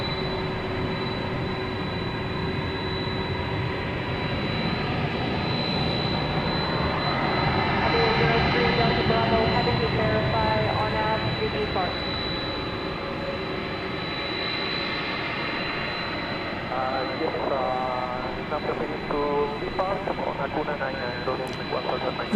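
A jet airliner's engines roar steadily through a long landing rollout at Dallas Fort Worth airport at night, a broad sustained rumble swelling mid-way and then easing, with a voice speaking over it at times.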